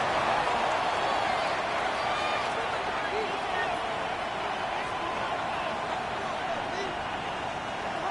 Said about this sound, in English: This crowd into it now as we get to 3rd down.